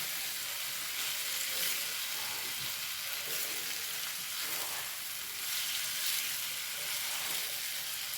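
Raw plantain and cluster beans stir-frying in coconut oil with curry leaves over a low flame give a steady, close sizzle that runs unbroken throughout, with no talk.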